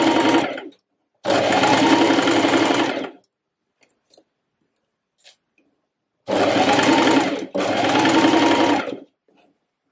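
A sewing machine runs a straight stitch along a reversible button-front dress in four quick bursts of steady mechanical whirring, close and clear, separated by short quiet pauses.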